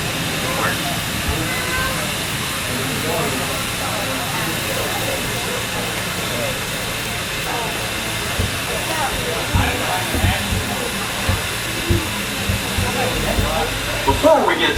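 Steam locomotive of a heritage excursion railroad hissing steadily as it moves, with a continuous broadband rush and low rumble throughout, some clanks near the end, and people talking faintly underneath.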